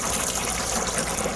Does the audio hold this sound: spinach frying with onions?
no